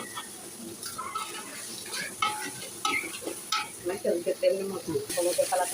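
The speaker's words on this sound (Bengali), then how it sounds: "মশলা কষানো হচ্ছে" Spices with turmeric powder being stir-fried in a pan for khichuri, a sizzling fry bed broken by scraping stirs that grow louder and busier toward the end, with a few brief faint voice sounds.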